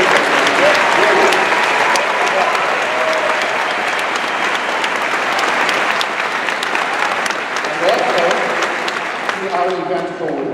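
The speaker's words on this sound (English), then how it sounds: "let's give a very nice round of applause to our wonderful MC" An audience at a Sacramento youth symphony concert applauds loudly and steadily throughout, a dense wash of clapping with faint voices beneath it.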